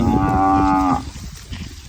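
A cow with epilepsy moos loudly and close, one long drawn-out call of about a second that trails off into quieter background noise.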